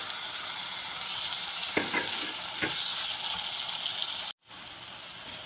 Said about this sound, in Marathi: हे टमाटर पण असे चांगले याच्यामध्ये परतून घ्यायचे आहेत